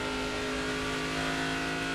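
NASCAR Nationwide Series stock car at Nashville accelerating at full throttle off turn 2 on the racetrack, a sustained loud engine roar with steady tonal drone and no talk.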